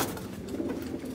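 Pigeons coo in a brief, steady burst close by, with a soft throaty murmur and no other voices.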